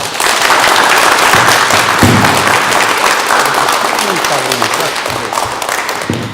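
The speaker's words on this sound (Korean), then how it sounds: "축하와 격려의 박수 한번 드립시다" A room full of people applauds steadily for several seconds at a building completion ceremony, with scattered voices talking underneath the clapping.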